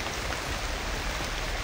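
Heavy rain pours down in a dense, steady hiss, loud and close, with no break across the short stretch.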